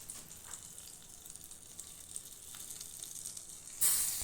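Kashmiri red chili tempering sizzles steadily in hot oil, a soft continuous hiss that swells louder and brighter right at the end as the tempering is poured over the dal.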